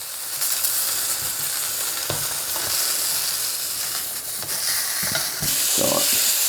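Pork chops sizzle loudly and steadily in a hot frying pan, the close hiss broken by a few clacks and scrapes as the meat is turned.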